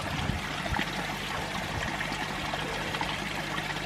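Water pours steadily from the outlet of a garden pond box filter, a continuous close trickling and splashing flow with an even level throughout and no talking.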